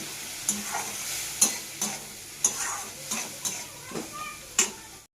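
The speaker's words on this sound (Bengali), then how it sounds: "এখন আমি পেস্ট করে রাখা মশলাটা অ্যাড করে দেবো। মশলাটা আমি একটু ভালোভাবে কষিয়ে নেব।" Spice paste fries and is stirred in a pan, a steady low sizzle broken by about eight regular scraping strokes of the spoon, close and clear.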